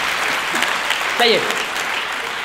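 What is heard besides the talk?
audience applause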